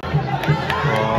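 A football crowd of ASA fans erupts in cheers at a Série D match against CSE. A dense, loud roar of many voices fills the short burst, with shouting layered throughout.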